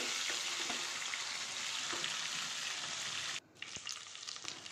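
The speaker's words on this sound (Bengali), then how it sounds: "ওগুলো এক পিঠ হয়ে গেলে আর এক পিঠে উল্টে ভাজা হয়ে যাবে" Pieces of rohu fish fry in hot oil with a steady, loud sizzle that runs unbroken, then briefly drops and returns with crackling pops near the end.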